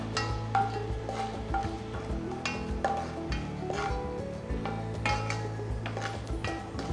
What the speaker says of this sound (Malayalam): നെയ്യ് ചൂടാകുമ്പോൾ 2 ടേബിൾ സ്പൂൺ കാഷ്യൂനട്ട് ഇടാം. ഗോൾഡൻ ബ്രൗൺ കളർ ആവണം, അതുവരെ ഒന്ന് ഫ്രൈ ചെയ്തെടുക്കാം.